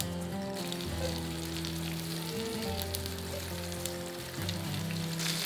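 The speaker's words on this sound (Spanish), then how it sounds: "vamos a poner un chorrito de aceite de oliva y vamos a ir poniendo la carne para sellarla" Floured oxtail pieces searing in olive oil in a pot, a dense, even sizzle and crackle close by, with a low steady hum underneath and no talking.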